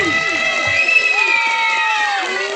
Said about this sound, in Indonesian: Tepuk tangan buat Abah Uma Kisti